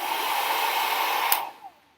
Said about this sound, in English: we're going to be using a blow dryer to test what objects will move